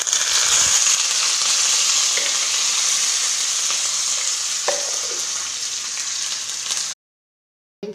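Mustard seeds, dried chili, curry leaves and urad dal tempering in hot oil on a stove, a loud, dense crackling sizzle with scattered pops that runs steadily, then cuts to silence near the end.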